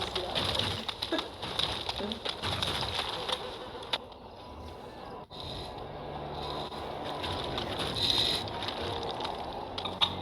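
Pigeons coo in the video game Dragon Age: Origins, a soft repeated cooing set among dense, steady game ambience with scraping textures and no talk over it.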